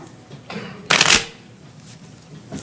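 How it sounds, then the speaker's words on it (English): A deck of playing cards being shuffled during a magic trick, a few soft riffling bursts with one loud close riffle in the middle, no talking. "Shuffle some more? Yeah, shuffle as long as you want."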